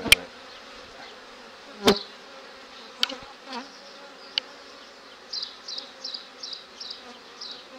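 Honeybees in an opened, hungry hive with no brood give a low steady hum. Several sharp clicks and a run of brief rising buzzes from individual bees passing close are heard, with no talking.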